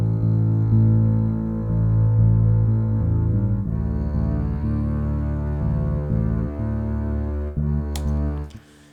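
Layered legato string basses from a strings library sustain low, overlapping notes in a slow line with reverb, continuous for several seconds before fading out near the end.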